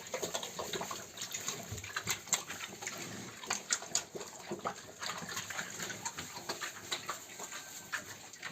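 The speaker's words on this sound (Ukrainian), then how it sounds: "Свинки снідають" Pigs feed noisily nearby, with wet slurping, chomping and snuffling grunts in an irregular, continuous stream.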